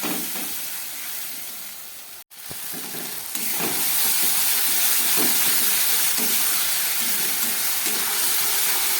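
Spice paste of onion, garlic, ginger, dried chili and pepper sautéing in a pan for a fish curry, a steady close sizzle with a brief cut near two seconds, then a louder even frying hiss with faint stirring scrapes.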